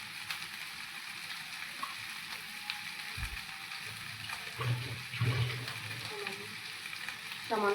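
A little water added to chickpeas frying in a pan with chilli powder, setting off a steady close sizzle with a brief splash and a few stirring scrapes on top.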